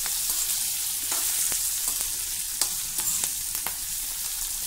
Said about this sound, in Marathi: आता ह्या तेलामध्ये आपल्याला ह्या मिरच्या परतून घ्यायच्या आहे.